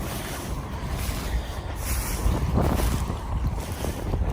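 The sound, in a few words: wind blowing, northeast wind outdoors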